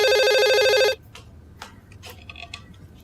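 A telephone rings with a loud, rapid electronic trill for about a second, then stops, leaving quiet room noise with a few faint clicks and soft sounds.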